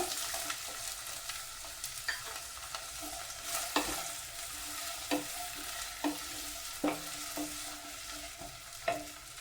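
Onions and green chillies frying in a pan for vegetable biryani, a steady sizzle broken by sharp stirring clinks and scrapes every second or so, close and alone.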